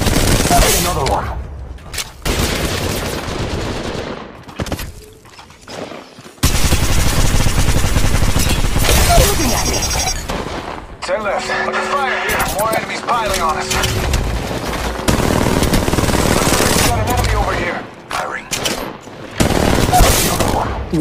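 Gunfire in Apex Legends Mobile arrives in repeated loud bursts and rapid automatic volleys, broken by short pauses, with voices talking over the shooting at times.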